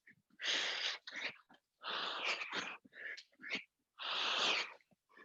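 Heavy, forceful breathing bursts during a cardio workout, three long loud exhalations with shorter huffs between, close and breathy, no talk.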